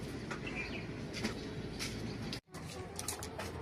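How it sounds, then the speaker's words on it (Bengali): Racing pigeons, a pair with red checker babies, coo and chirp softly in a quiet indoor setting, with low murmuring calls and a brief dropout partway through. "দর্শক এখানে এক জোড়া কবুতর আছে আর দুইটা রেড চেকার বেবি আছে"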